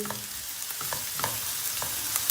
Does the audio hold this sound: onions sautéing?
yes